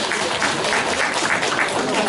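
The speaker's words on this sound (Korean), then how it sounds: "큰 박수로 맞이해 주십시오" A roomful of attendees claps to welcome guests at a Gumi mayoral candidacy press conference in 2018, a loud, even wash of applause that continues unbroken.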